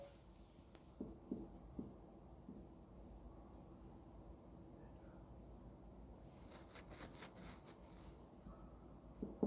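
Chalk or marker scratches faintly across a classroom board in short, irregular strokes. A few brief, sharper clusters of scraping come near the end, with no talking.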